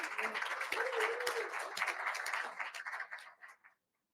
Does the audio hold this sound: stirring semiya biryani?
no